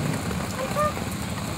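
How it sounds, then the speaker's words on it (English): Rain falls during a heavy thunderstorm as a steady, dense hiss of drops, moderately loud and continuous, with no thunder in this brief stretch. "I'm trying to record the rain"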